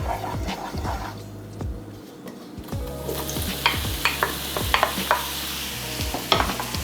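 Vegetables sizzle steadily in a hot pan while a spoon stirs and scrapes, a continuous hiss punctuated by clattering strokes, close and fairly loud.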